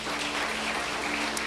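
Congregation applauding in church, a dense, even patter of many hands clapping together for a short stretch, fairly loud and without speech.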